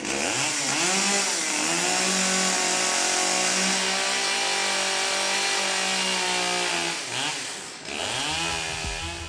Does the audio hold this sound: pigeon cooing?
no